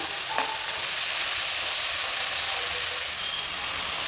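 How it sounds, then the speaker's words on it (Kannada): Avarekalu (hyacinth bean) seeds fry in a hot oil tempering for Tumakuru-style usli, giving a steady, close, even sizzle with a brief clink near the start and no voices over it. "ಒಗ್ಗರಣೆಯಲ್ಲಿ ಕಾಳನ್ನು ಚೆನ್ನಾಗಿ ಹುರಿಬೇಕು ಈ ಥರ ಹುರಿಯೋದ್ರಿಂದ ಚೆನ್ನಾಗಿ ಬೇಯುತ್ತೆ"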